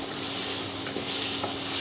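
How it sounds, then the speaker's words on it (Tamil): Amla rice masala sautés in a pan, giving a continuous loud hissing sizzle with a few soft stirring scrapes, close up and with nobody talking. "எப்படி சத்தம் கேட்குது பார்த்தீங்களா? ஒரு 2 நிமிஷம் நல்லா வதக்கிட்டு"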